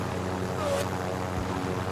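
A helicopter in Call of Duty Modern Warfare hovers close by with a steady droning rotor and engine hum, continuous and unchanging over a couple of seconds.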